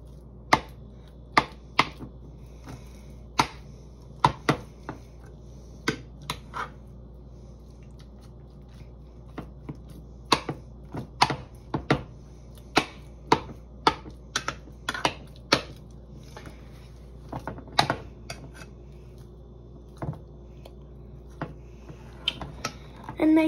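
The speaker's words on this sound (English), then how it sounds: "So you want to mash your beans." Spoon mashing cooked beans for a homemade bean and cheese burrito, giving irregular sharp clicks and scrapes against the bowl, close and fairly quiet, scattered throughout with no talk.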